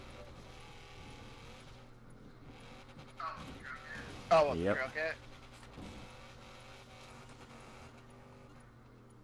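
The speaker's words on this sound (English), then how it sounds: "This Jeep does sound nasty though, can't lie." In a driving video game set on Fortune Island, a Jeep's engine rises into a harsh, rough burst of revving for a few seconds, then falls back to a low idle drone while someone talks over it.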